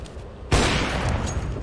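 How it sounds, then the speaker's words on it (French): A single sharp pistol shot in a battle royale video game bursts out loud after a quiet moment, followed by a dense, sustained wash of noise as the shot's rumble lingers. "Ouais, c'est du pistolet, c'est sûr."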